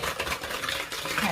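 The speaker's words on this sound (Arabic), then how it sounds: "نضيف الكاس الاول ونخلط عاده ونزيد النص باش المكونات تمتزج مع بعضها مليح" Chocolate pancake batter is whisked with milk in a bowl, giving quick, rhythmic scraping and clinking of a utensil against the bowl, close and continuous.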